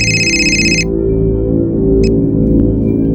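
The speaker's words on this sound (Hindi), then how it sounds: "फिर से उसका फोन आ गया" A telephone rings indoors with a short electronic tone burst at the start, followed by a brief second chirp later over a low steady background hum.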